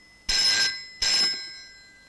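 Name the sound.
telephone ringing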